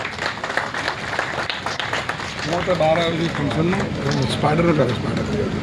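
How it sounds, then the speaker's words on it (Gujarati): A village crowd at an outdoor tree-planting event in Khatraj bursts into a brief round of clapping, then a voice begins speaking over the fading applause. "ખૂબ બધી તાળીઓનો ગરગરાટ આપણે વ્યક્ત કરીએ છીએ"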